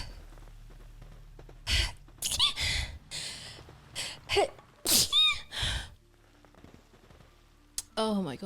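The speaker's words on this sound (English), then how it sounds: "I'm going to sneeze again." Several sharp, close sneezes and gasping breaths from one person in quiet surroundings, spaced apart with short pauses, followed by a brief vocal sound at the end.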